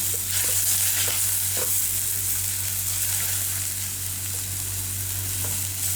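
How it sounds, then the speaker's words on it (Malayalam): Green chillies and crushed garlic sautéing in a pan for a chicken curry, a steady close sizzle with faint stirring scrapes throughout, no talking. "പച്ചമണം മാറുന്നവരെ നന്നായിട്ടൊന്ന് വഴറ്റി കൊടുക്കുക."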